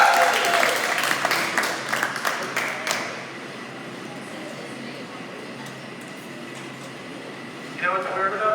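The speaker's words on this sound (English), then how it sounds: "Make a huge round of applause for Pop Weiner." An audience at a brewery show applauds and cheers in a burst of clapping that fades after about three seconds, leaving room noise before a voice speaks at the end.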